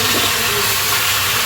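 Tomatoes hitting a pan of cauliflower and potato masala, loud continuous sizzling and hissing that fills the whole moment evenly, with no talk.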